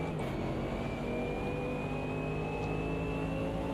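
GT3 race car engine in the Automobilista 2 racing game, a steady droning engine note holding a constant pitch, loud and continuous with no one talking.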